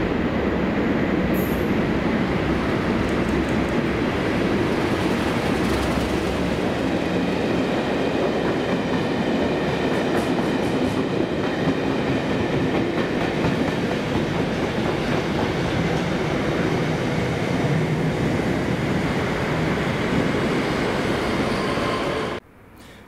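Recently repainted HNRC Class 37 locomotive 37607 passes on a Scottish railway while on hire to Colas, hauling a working to Slateford Depot: a loud, steady rumble and clatter of wheels and engine lasting over twenty seconds, then cutting off abruptly.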